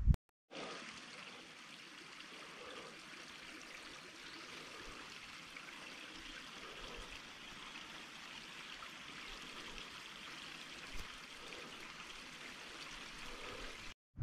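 A river flows in a steady, even rush of water, continuous and fairly soft throughout, with no voices.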